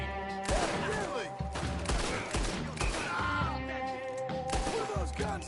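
Repeated bursts of gunfire in Red Dead Redemption 2 mixed with shouting voices, several close, loud volleys spaced across the moment.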